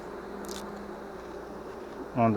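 Honey bees buzz steadily around hives after two colonies were merged in summer, a close, continuous insect drone with a brief louder burst near the end.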